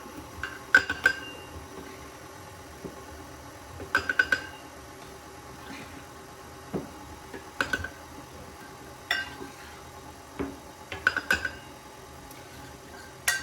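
An electric mixer on low speed blending whiskey cake batter, a quiet steady whir punctuated every second or two by sharp clinks of the beaters against the bowl.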